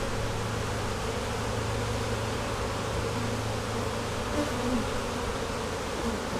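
Honey bees buzz densely around a hive used for raising queens and nucs, a steady, close, unbroken drone filling the whole stretch with no voices.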